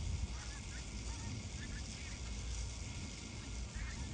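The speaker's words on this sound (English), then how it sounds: "you can hear the pink-foot geese" Pink-footed geese honk on a marsh along a migratory trail, a scattered distant flock calling intermittently under a constant crackling hiss from an overhead pylon.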